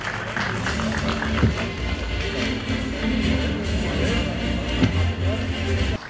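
Audience at a municipal launch event in Sakarya for new electric bicycles applauds the metropolitan mayor: steady, dense clapping for about six seconds, moderately loud and even, with murmuring voices mixed in.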